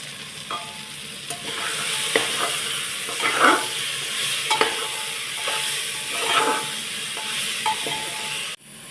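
Washed moong dal goes into a hot oiled pan for khichdi and is sautéed, a steady close sizzle broken by repeated scraping strokes of a spoon stirring through the pan.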